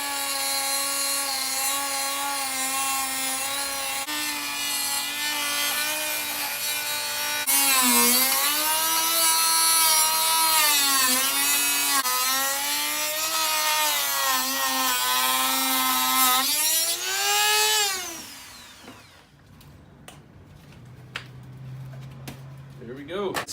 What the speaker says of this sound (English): So next, cut this sucker out.